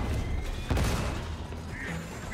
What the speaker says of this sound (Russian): сейчас взрыв будет